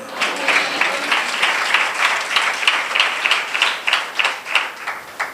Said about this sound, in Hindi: तालियां बजाई आपने,